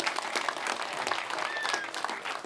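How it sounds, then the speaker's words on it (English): A round of applause for Ger Buckley fills the room, a steady wash of many hands clapping at moderate distance with a few whoops. "A big round of applause for Ger Buckley."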